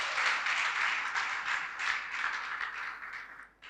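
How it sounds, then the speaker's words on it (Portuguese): Steady applause from a church congregation rises and holds for several seconds, a broad wash of many hands clapping together, then tapers off near the end. "Alguém filho neste lugar pode dar uma salva de palmas para a honra e glória do Senhor."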